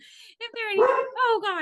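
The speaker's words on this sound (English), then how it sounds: "Sorry, that's my dog." A dog barks several times in quick yappy bursts, close and loud, over a voice speaking during an online presentation.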